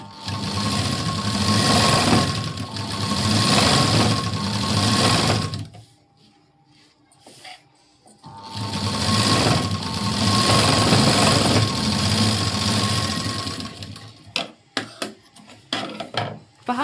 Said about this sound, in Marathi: इथे मी एक शिलाई देऊन घेते